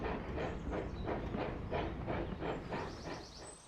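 A steam engine races along the rails with rhythmic puffing chuffs and clickety-clack wheel beats, steady and close, with hiss from the steam and no voices.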